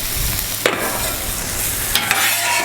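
Beef fried rice sizzling and frying on a Camp Chef FTG600 flat top griddle, a steady close hiss with two brief scraping stirs of a spatula partway through.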